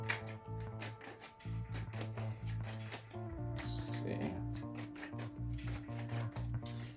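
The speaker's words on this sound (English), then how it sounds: "We're trying to shuffle a little more carefully so they don't smash into each other." Tarot cards shuffled carefully by hand, giving soft, repeated riffling and slapping bursts that sit under steady background music and a voice.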